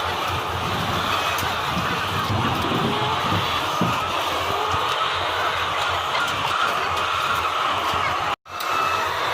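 Many chickens cluck and chatter together under a steady, loud mechanical roar, like a crowded poultry house with fans and air conditioning running, during a morning check.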